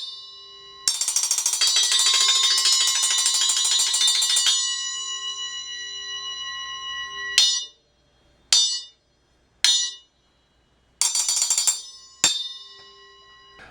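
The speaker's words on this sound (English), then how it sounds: "So anyway, that's the Zil-Bel." A Zildjian Zil-Bel bell cymbal rings out with a long sustained metallic tone, then is struck several more times in short, bright hits separated by silence, the last strikes quicker and choked off.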